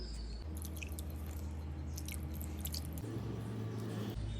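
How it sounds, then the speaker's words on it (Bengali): Flour dough with salt and soybean oil being mixed by hand as water goes in, giving soft, faint squishing and wet squelching over a low background hum, with no voices. "সব কিছু মিশিয়ে নেওয়ার পরে এখন এগুলো দেবো হচ্ছে পানি"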